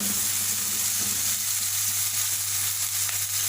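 Green chillies and dried plums sautéing in a pan, a steady close sizzle and hiss of frying oil throughout, with a faint low hum underneath.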